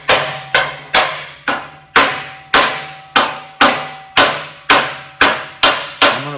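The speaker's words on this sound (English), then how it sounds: "that's 1/4 inch aluminum plate, and it's bending that easy." Quarter-inch aluminum plate struck with a hammer while being bent for a truck bed: a dozen sharp, ringing metallic blows at a steady pace of about two per second, each fading quickly.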